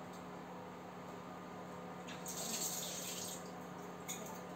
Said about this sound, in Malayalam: ഇനി അതൊന്ന് കഴുകി എടുക്കാം.